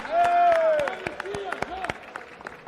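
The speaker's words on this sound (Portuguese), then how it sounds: "Ao PSD, o nosso aplauso." At a Brazilian political gathering, scattered claps ring out while a voice carries over them, the clapping thinning toward the end.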